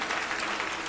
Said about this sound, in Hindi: जोरदार तालियां जिंदा खुदा के लिए बजा दीजिए